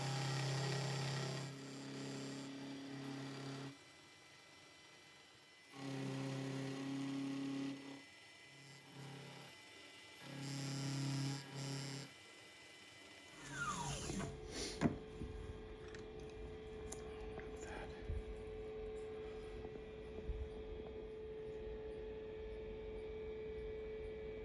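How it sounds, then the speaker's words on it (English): Steady machine hum with a drop into a high-pitched whine and scraping hiss as a 3/8 end mill squares off the sides of a metal engine part, continuous and close, no talking. "square off the two sides and square off the front with this"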